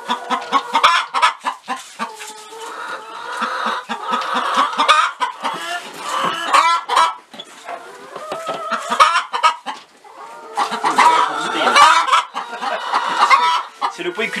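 A group of laying hens cluck and squawk continuously close by at a farm in Saint-Mamert, their calls overlapping in busy, uneven bursts with brief pauses.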